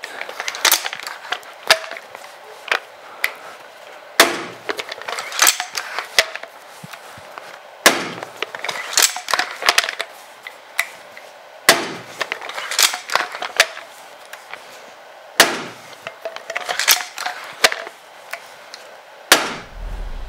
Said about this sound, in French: Je vais maintenant passer au tir, enchaîner les 5 tirs directement dans la cible.